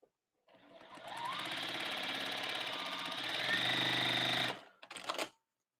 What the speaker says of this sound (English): We're going to sew the middle row now.